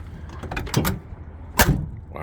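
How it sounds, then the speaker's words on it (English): Doors of a 1960s-70s Mopar muscle car shut with heavy solid thuds, two close, loud slams about a second apart, each preceded by a faint latch rattle, with no talk. "See the way all these doors shut?"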